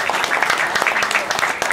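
A crowd at a dhikr manaqib gathering applauds a guest with brisk, scattered hand clapping that mixes with voices in the background.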